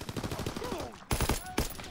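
Call of Duty gunfire comes in two short sharp bursts of shots near the end. Before them, game sounds play and a voice speaks briefly.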